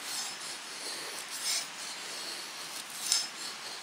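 An Old Hickory knife from Ontario Knife, with a full flat grind, shaves thin feather sticks from wood, giving a soft continuous rasping scrape with two slightly louder strokes, close and quiet, with no talk.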